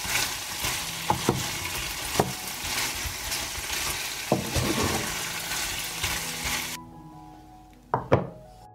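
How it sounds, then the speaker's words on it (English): Meat fries in a pan on a stove with a loud, steady sizzle, broken by a few sharp knocks and stirring thunks, then the hiss cuts off and two clanks follow. "I put the pan on the stove and fry everything until done."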